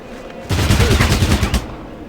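A rapid burst of weapon fire in the tactical game Fallout Tactics, set in Kansas City, rattles for about a second as a dense string of loud blasts, then cuts off abruptly.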